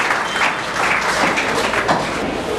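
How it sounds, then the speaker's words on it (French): Loud, sustained applause from mourners at a funeral service, a dense wash of clapping that carries steadily from start to finish with no voices over it. "Si on peut applaudir très fort pour ce Dieu-là"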